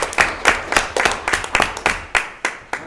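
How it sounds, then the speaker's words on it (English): Sparse applause at a school board meeting: a few pairs of hands clapping in a loose, uneven rhythm of sharp, fairly close claps that trail off over a few seconds, with no talking. "That right there deserves a round of applause."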